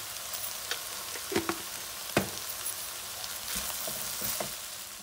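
Green bean curry with garlic chili powder and garam masala fries in a pan, a steady close sizzle broken by a few sharp stirring clicks and scrapes.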